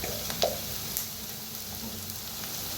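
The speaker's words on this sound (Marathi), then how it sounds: "आता छान असं भाजायला लागले" Turmeric roasting in a pan, a steady soft sizzle with a couple of faint clinks from stirring, close and quiet with no talking.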